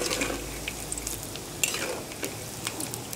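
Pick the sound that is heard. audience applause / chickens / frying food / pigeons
frying food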